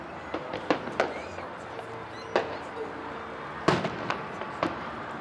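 Fireworks bursting over a July 4th show in Sparks, Nevada: about eight sharp, distant booms arrive spaced irregularly over a steady crowd murmur, with a faint whistling rise between some blasts.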